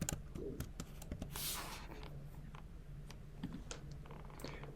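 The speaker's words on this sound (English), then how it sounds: "we're just going to start typing in Stories Behind the Stars" Soft, close keystrokes tap out on a computer keyboard in an irregular run of quick clicks, quiet and alone against a faint room hum.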